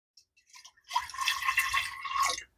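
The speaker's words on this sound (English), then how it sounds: "I'm going to put a little bit of the rainwater in just to kind of get it started." Rainwater pours into a container in a brief, close splashing trickle that builds after a few light drips and then stops, with no talking.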